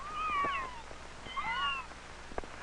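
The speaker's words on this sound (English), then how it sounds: "George's cat, Gladys, has a new litter of kittens." A mother cat, Gladys, meows with her new litter of kittens, two drawn-out rising and falling mews about a second apart, close and clear over a quiet room.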